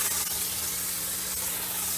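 A carpet cleaner gives off a steady, close hiss of steam and liquid injection spraying onto carpet, unbroken for the whole moment.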